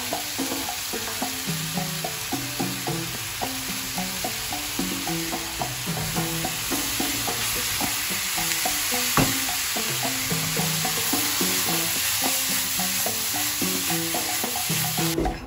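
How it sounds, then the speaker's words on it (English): Garlic and a spice packet stir-fried in a wok, a steady loud sizzle with constant scraping and tapping of the spatula in an irregular rhythm throughout, no voices. "Garlic and spice packet going in after about 5 minutes of cooking in the wok and constantly stirring"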